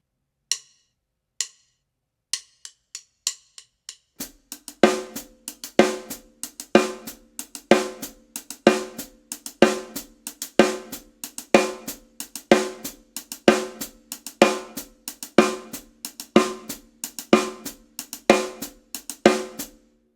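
Drum triplet pattern with a double stroke on the middle partial and a hi-hat foot stomp, starting with a few sparse taps and then settling into a steady, evenly repeating groove, crisp and close with no talking.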